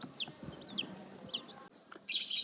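Newly bought chicks kept in a box give soft, high, downward-sweeping peeps that repeat every few moments, faint against background noise, before a louder, brighter burst of sound at the end.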